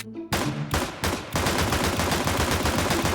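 Pistol shots ring out in Counter-Strike 2, a sharp opening crack and then a rapid string of close, loud gunfire bursts continuing steadily to the end.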